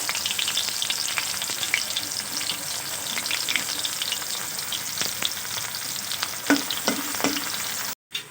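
Chopped onion frying in hot oil in a wok with cumin gives a continuous sizzle, punctuated by scraping stirs and clinks of a spatula, close and moderately loud without talk.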